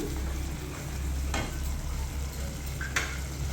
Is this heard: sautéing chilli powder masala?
yes